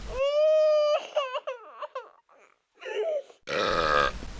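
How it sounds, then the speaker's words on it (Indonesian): A baby crying as a sound effect: a loud sustained wail followed by choppy sobbing bursts and whimpers, a brief pause, then a harsh, noisy cry, close and alone without talk. "terdengar suara bayi membelah udara hutan yang sunyi"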